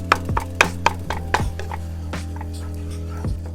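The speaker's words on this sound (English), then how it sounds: "Just wanna go ahead, cut the tomatoes up a little bit." A knife cuts diced tomatoes on a board for a seafood pasta, giving a quick run of sharp, close chops followed by a few slower, spaced knocks over a steady low hum.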